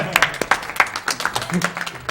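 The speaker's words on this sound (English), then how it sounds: "Let's get a round of applause for that" Scattered claps ring out at a charity speedrun marathon stream after a frame-perfect door enter, loose and uneven over about two seconds, mixed with people talking.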